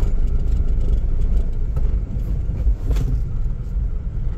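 A Daihatsu Sigra rolls along in fifth gear with no throttle, giving a steady low engine rumble and road noise close up inside the car, with no talking.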